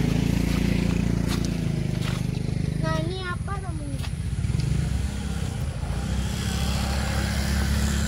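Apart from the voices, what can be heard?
motorcycle passing by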